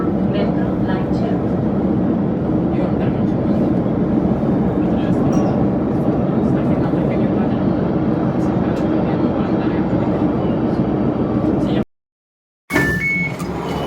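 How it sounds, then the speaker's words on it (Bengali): A driverless, computer-run metro train running underground makes a loud, continuous rumble and roar that fills most of the ride. It ends in an abrupt cut, followed by a brief quieter stretch. "এটা হলো চালকবিহীন মেট্রো, অর্থাৎ কম্পিউটারে চলে।"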